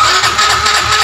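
A Yamaha Mio M3 scooter, its seat and luggage compartment removed and running on a jumpered battery, starts up and runs with a steady mid-pitched engine drone, close and loud, with no voices.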